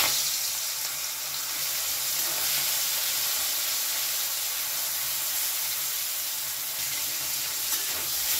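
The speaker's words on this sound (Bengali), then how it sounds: "এবারে আমি নুন হলুদ মাখানো চিংড়ি মাছটা ভেজে নেব।" Prawns rubbed with salt and turmeric fry in mustard oil in a kadai, giving a steady, bright sizzle that hisses evenly throughout with no voices.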